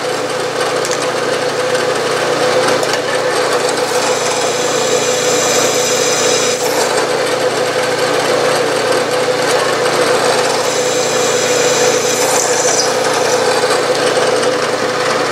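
A drill boring a deep hole in metal lubricated with kerosene, a steady loud machine whir with intermittent higher grinding squeals from the bit, no voices.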